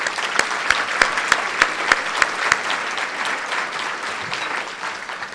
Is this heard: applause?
yes